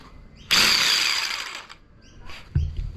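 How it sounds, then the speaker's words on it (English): A jigsaw cuts in one loud, close burst of harsh buzzing for about a second, then trails off. A brief clunk follows, all during custom work on a BJ73 Land Cruiser restoration. "That's a jigsaw"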